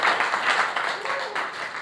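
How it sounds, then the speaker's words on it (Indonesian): A studio group claps briefly for a guest, light applause mixed under a talking voice, fairly close and moderate in level. "Tepuk tangan nih buat Habil Johan."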